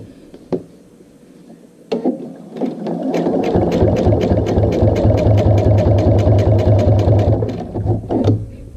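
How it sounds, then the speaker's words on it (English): A sewing machine double-stitches the top piece of a bag strap, starting with a few clicks, then running in a loud, steady, rapid mechanical whir for several seconds before slowing and stopping, close up with no speech. "I'm going to just basically double stitch that top piece"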